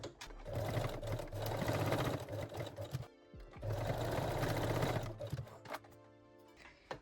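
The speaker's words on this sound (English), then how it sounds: "And lock the seam with a straight stitch." A sewing machine locks a serged seam on lace-back Brazilian panties with a straight stitch, running in two steady, close bursts of rapid stitching separated by a brief pause, with a short final start at the end.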